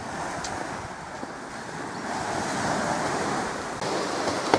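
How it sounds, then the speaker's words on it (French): Sea waves beside a lodge on Nosy Be, Madagascar, a steady broad wash of surf and rolling water with some wind buffeting, fairly loud and continuous, with no voices. "La mer toujours."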